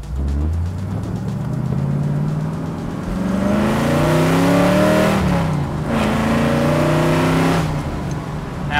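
A 1974 Corvette revs hard in a first-gear roll, its loud engine note climbing steadily through the gear, briefly dipping and then surging again, close and with no talk.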